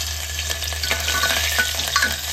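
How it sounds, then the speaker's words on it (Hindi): Green chillies fry in a pan for vrat-style khichdi, a dense, even sizzle with spatula stirring scrapes over a steady background hum. "अब डालेंगे हरी मिर्च।"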